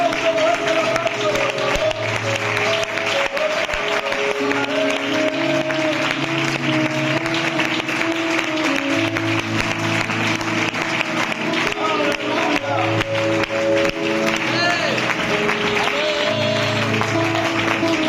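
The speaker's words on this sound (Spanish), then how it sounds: "fuerte el aplauso, fuerte el aplauso" A church congregation applauds during worship, a long steady wash of clapping and crowd noise layered under music with sustained tones and voices throughout.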